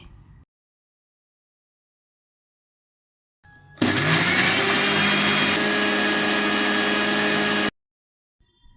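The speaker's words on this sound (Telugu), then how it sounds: "ఇప్పుడు మిక్సర్ జార్లో ఈ మిశ్రమాన్ని వేసి మెత్తగా గ్రైండ్ చేసుకోవాలి" After near silence, a mixer grinder grinding soaked dates whirs loudly at a steady, high-pitched drone for about four seconds, then cuts off abruptly.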